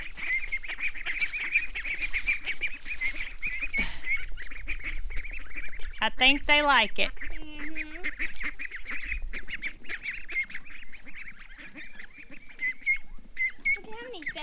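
Goslings and ducklings call steadily throughout, a continuous chatter of peeps and honks with occasional louder quacks nearby, while people speak briefly over them.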